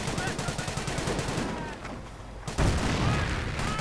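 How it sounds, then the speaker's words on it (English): Rapid bursts of machine gun fire rattle through a 1v1 real-time strategy battle, with a dense, continuous crackle of gunshots and a louder surge near the end, while a commentator talks over it. "quickly getting caught in front of all the machine gun fire"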